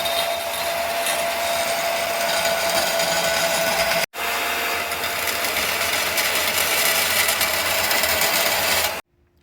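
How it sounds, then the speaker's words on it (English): Stainless steel being machined on a metal-cutting machine to shape a welding surface for a Diesel Tiger motorcycle shifter part; a steady, loud, continuous whir with a tonal whine, briefly interrupted near the middle, then stopping abruptly at the end. "I just want to machine out that welding surface"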